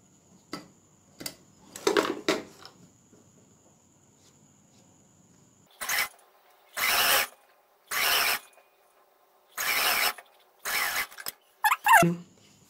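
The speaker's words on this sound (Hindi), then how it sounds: "इसको हम इस तरह से इस पर हम सिलाई लगाएंगे" A sewing machine stitching a bell sleeve: several short bursts of rapid mechanical whirring and clatter separated by pauses, close and clear, with faint handling clicks between runs.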